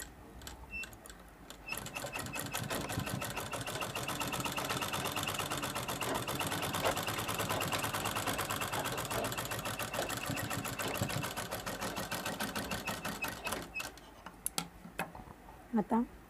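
A sewing machine stitches a zip and two layers of fabric on a small coin pouch, a fast, steady mechanical rattle running for about twelve seconds before stopping, with a few quiet handling clicks after, all at low level.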